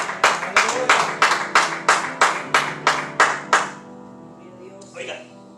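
A church congregation claps together in a steady, unison rhythm, about a dozen sharp, loud claps in a row before stopping, followed by a brief voice.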